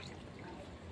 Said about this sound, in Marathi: पूर्ण त्या ट्रॅकमध्ये पाणी ओतते आहे